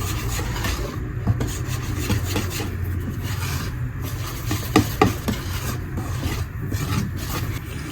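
Cake batter made with flour and eggs is mixed by hand in a bowl, giving steady rasping and scraping strokes in an irregular rhythm. The sound is close and moderately loud, with no talk.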